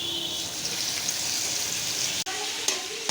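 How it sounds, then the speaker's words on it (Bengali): Onion fries in oil in a pan for a chicken dish, a steady close sizzle with brief stirring clatters near the end and no talk. "এই যে আমি পেঁয়াজটা ভালোভাবে ভেজে নিচ্ছি।"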